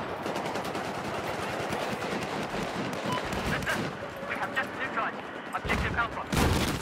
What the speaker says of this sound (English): I shoot a lot and a lot of rounds